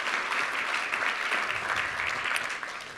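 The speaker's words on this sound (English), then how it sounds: "let's give the donors one more round of applause" Steady, moderately loud applause from an audience honoring scholarship donors at a school event, a continuous even clatter of many hands lasting about three seconds, easing slightly at the end.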